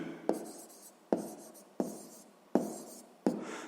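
A pen writes out a sixth-grade math solution in short, regular scratchy strokes, about five of them, close and fairly quiet.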